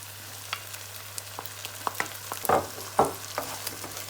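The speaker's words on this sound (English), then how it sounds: "Then fry till everything is golden brown." Lamb mince and potatoes fry in a pan with tomato, a steady low sizzle broken by several scraping stirs, two of them louder, close up and without talk.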